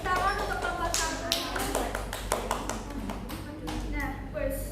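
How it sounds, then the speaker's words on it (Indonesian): A classroom gives a round of applause for the first student group during a micro-teaching lesson; scattered, uneven hand claps sound close by while people keep talking over them. "Tepuk tangan untuk kelompok 1."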